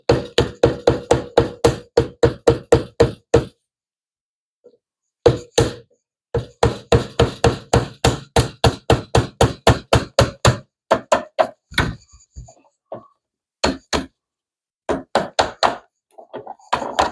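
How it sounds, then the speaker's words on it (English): The butt of a battery screwdriver hammers a Plymouth Duster car grill in sharp, evenly paced knocks, close and loud, coming in long rapid runs broken by short silent pauses. "Is that how you use a battery screwdriver?"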